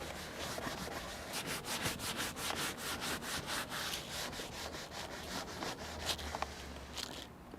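Leather cleaner scrubbed by brush into the perforated leather seat of a 1995 Mercedes E320, a steady run of quick rhythmic rubbing strokes, close and fairly quiet, with no talking.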